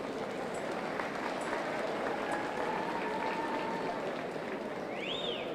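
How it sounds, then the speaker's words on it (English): An audience at a youth fair market hog show gives steady, sustained applause as young exhibitors leave the ring, a broad even patter of many hands clapping throughout. "Give these kids a round of applause as they exit"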